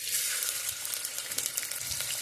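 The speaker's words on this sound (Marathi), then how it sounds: "कांदा चांगला परतून घेऊ।" Onion frying in oil for a Maharashtrian black mutton masala, a dense, close bright sizzle and crackle running continuously with faint stirring underneath.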